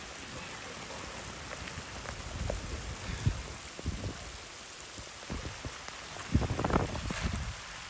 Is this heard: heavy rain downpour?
yes